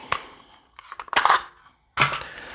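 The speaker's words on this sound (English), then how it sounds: "let me take this mag out real fast." A magazine is pulled from a PSA 8.5-inch pistol-length 300AAC pistol: a few sharp metallic clicks and scrapes close up, then a short pause and one more clack.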